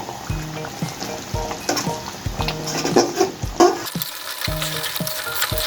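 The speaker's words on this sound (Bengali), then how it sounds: "এখন আমি নাড়াচাড়া দিয়ে দিব। এই তরকারিটা অনেক নাড়াচাড়া দিয়ে রান্না করতে হয়" Beef black roast (kala bhuna) is stirred in a pan. A utensil scrapes and knocks in repeated strokes over a sizzling crackle, with brief louder clatters toward the middle and no voices.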